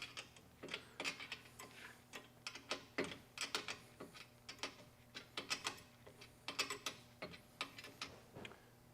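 A part is tightened during assembly of a steerable cultivator, heard as a run of close, sharp ratcheting clicks in uneven bursts with brief gaps between them and no talking.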